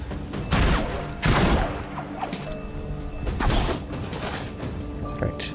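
A wild shot attack in the game Battle Chasers: Nightwar, a burst of loud crashing impacts and blasts in quick succession followed by a second volley, with clanking mechanisms between.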